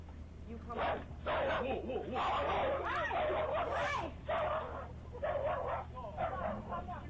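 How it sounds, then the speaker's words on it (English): A dog barks and yips excitedly in a played video clip, meeting a man for the first time, with bursts of barking and whimpering mixed with voices. "This guy met his girlfriend's dog for the very first time."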